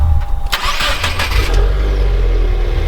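A 2021 Subaru WRX engine with stock exhaust cranks and fires up with a sharp burst of revs, then settles into a deep, steady idle close by.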